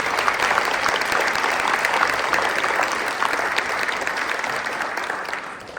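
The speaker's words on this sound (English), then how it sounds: "let's give a huge round of applause for all those businesses" Audience applause at a student awards ceremony, a steady dense roar of many hands clapping together that holds for several seconds and then eases off slightly at the end, with no talk over it.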